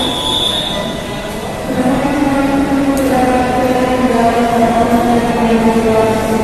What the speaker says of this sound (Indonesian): Nah, ini kereta ke arah Parung Panjang.